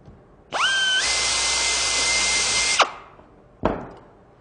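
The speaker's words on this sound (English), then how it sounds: "We're ready to drill the second hole." A power drill bores the second hole for a nutplate installation, a steady high whine lasting about two seconds that winds down, followed by a short second burst, close and with no talk.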